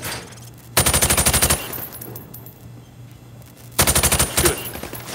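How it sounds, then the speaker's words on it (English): Two rapid bursts of automatic gunfire in Call of Duty Modern Warfare, shot through thin plywood at targets, each a quick loud rattle of about eight rounds, separated by a quiet pause with a low hum. "I want you to shoot the targets through the wood."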